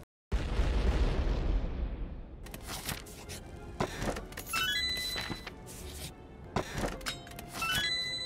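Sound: bomb explosion in a video game

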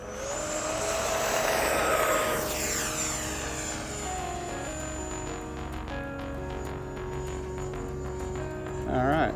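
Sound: E-Flite F-16 Thunderbirds 70mm EDF RC jet taking off

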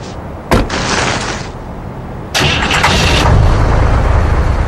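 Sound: snowmobile engine starting in video game Resident Evil Code Veronica

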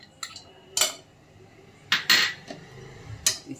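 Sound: pan being placed on the gas stove

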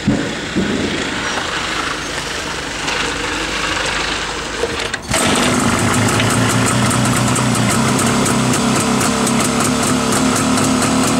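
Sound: motorcycle engine running

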